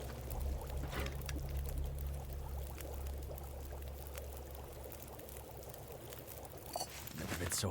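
Water pours in The Long Dark survival game as a steady, fairly loud stream runs for several seconds, with a low droning tone underneath.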